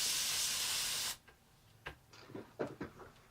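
An airbrush sprays with a loud, steady hiss of air for about a second, then cuts off, leaving faint room noise and scattered distant voices.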